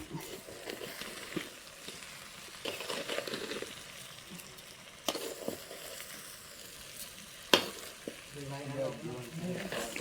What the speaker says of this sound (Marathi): आता मित्रांनो तांदूळ घेतले टाकून आता खाली वरती करू